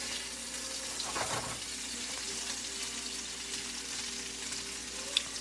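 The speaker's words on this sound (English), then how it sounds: "you kind of want to sear it on all sides" Salmon sears in oil in a pan, a steady soft sizzle running throughout with one brief sharp tick near the end.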